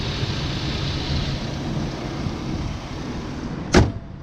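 A 2000 Chevy Blazer 4x4 with a 4.3 liter V6 idles smoothly with a steady low rumble, and a sharp click sounds close by near the end.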